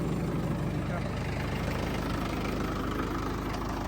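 A Mahindra tractor engine idles in a farm field, a loud, steady low rumble with a rapid even knock, close and continuous.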